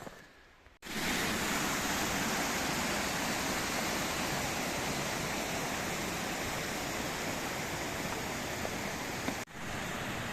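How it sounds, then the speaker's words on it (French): Steady roaring rush of the Stollerbalz waterfalls in the snowy Vosges mountains, a dense broad wash of falling water heard close and loud, constant from start to end with no talk. "on est sur les cascades de Stollerbalz"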